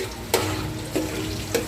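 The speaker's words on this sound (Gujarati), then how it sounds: "રીંગણા અત્યારે થોડોક નાખ્યા છે તળવા" Brinjal pieces sizzle in hot oil in a pan, a steady frying hiss broken by three short clattering knocks spaced evenly apart.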